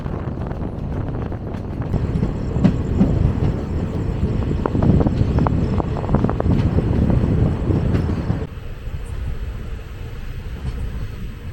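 A Sengottai-to-Tambaram express train passes on a double-track line, giving a steady, loud rumble with wind buffeting that carries on for about eight seconds before dropping away to quiet.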